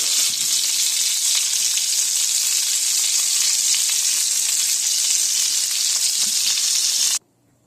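Food sizzles and crackles steadily in hot garlic-infused bacon grease in a pan, a loud continuous frying hiss that stops abruptly just before the end.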